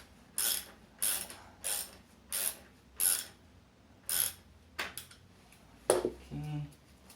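Ratchet wrench clicking as a part is screwed in during rear assembly on a Suzuki Intruder Volusia VL800 motorcycle, about eight short bursts of close metallic ratcheting in a steady rhythm, then a brief creak.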